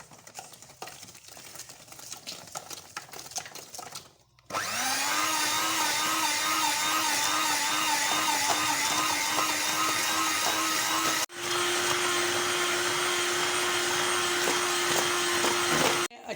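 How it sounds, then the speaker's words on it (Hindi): Electric hand mixer beating eggs and sugar with vanilla essence for a carrot cake batter, a steady loud motor whir that starts abruptly after quieter clatter, briefly cuts out and resumes at a slightly different pitch. "अच्छी तरह जो है अंडे और चीनी जो बीट हो रही है"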